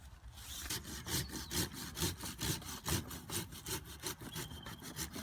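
A hand saw cuts through a large-trunk maple bonsai branch, with rhythmic back-and-forth rasping strokes, about four per second, steady and close.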